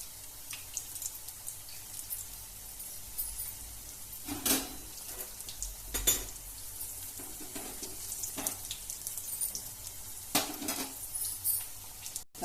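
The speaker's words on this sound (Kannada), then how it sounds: "ಬೆಂದಿದೆ, ಸ್ವಲ್ಪ ತಿರುಗಿಸಾಕೋಣ." Capsicum bonda being turned in a pan: a few scattered spatula scrapes and clinks sound over a faint, soft sizzle at low volume.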